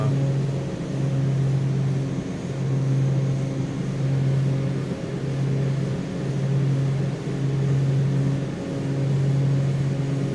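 Simulated aircraft engine in Microsoft Flight Simulator, a steady droning hum with strong low harmonics, swelling and easing gently in cycles as power and RPM come up, continuous and close with no talk.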